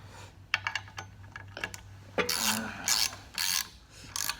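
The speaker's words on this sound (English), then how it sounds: "I probably shouldn't even be using a socket right now because I got to end up loosening them up anyway" Ratchet wrench with a socket clicking on S10 motor mount bolts during a 350 engine swap, irregular bursts of close mechanical clicks over a steady low hum.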